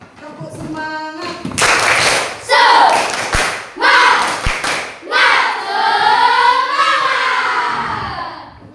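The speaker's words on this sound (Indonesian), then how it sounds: "Tepuk semangatnya ayo. Tepuk semangat." A group of students performs a rhythmic 'tepuk semangat' clapping cheer as an ice breaker, a series of loud close bursts of claps and thumps mixed with chanting voices.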